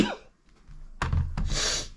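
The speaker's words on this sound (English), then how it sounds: "COVID cough." A single rough cough bursts out close by, followed by a short breathy rasp, with near silence before it.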